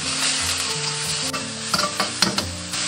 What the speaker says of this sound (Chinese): 先把这个牛肉给它炒香。